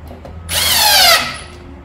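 A power drill drives a screw into the side panel of a KICK Armada 55-inch foosball table, one short, loud, close whir that rises and falls over about a second against a quiet room.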